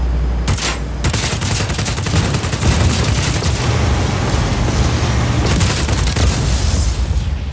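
Sustained bursts of automatic gunfire hammer at a generator in the Just Cause 4 video game. The shots come loud and rapid, with booming impacts and a brief pause before the firing resumes.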